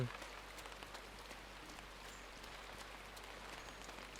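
Steady rain falling in the video game INSIDE, a soft continuous patter of drops with no voices, holding at an even, fairly quiet level throughout.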